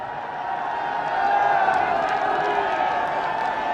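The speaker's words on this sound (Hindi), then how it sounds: "आप अपने उद्घोष, जय घोष और तालियों से उनका स्वागत करेंगे" A large crowd cheers and claps to welcome the Prime Minister at the Noida International Airport foundation stone ceremony in Uttar Pradesh, a steady, fairly distant roar of voices with applause that swells slightly midway.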